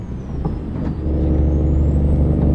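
Cummins X15 truck engine in a driving video game, a deep, steady diesel drone that swells as the truck pulls and builds speed, with a short hiss like an air brake early on; no talk.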